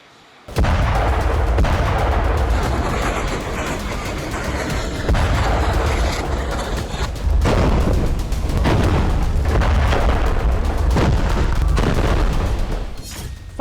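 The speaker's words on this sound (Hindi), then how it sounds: "इसी तरह के गोले बारूद की आवाज आपको साफ तौर पर सुनाई दे सकती है" Repeated artillery shelling and gunfire explosions in Gaza boom and crack loudly and continuously, with dense overlapping blasts, some distant rumbles and sharp nearer reports, filling the whole span without speech.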